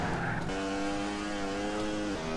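A motorcycle engine in an Upin cartoon scene drones steadily and loudly, its pitch shifting as it revs, with a squealing tone on top and no speech.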